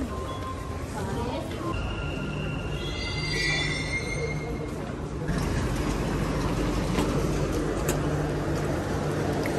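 A Dubai Metro train at the platform gives a continuous electric hum and rolling rumble with a brief high squeal of wheels partway through, while someone talks over it.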